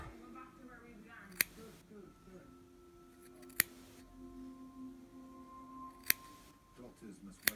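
Scissors snip excess wick material for an Ijoy Tornado Hero vape coil, several sharp separate cuts close by over a low steady hum.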